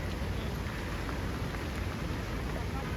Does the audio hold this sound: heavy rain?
yes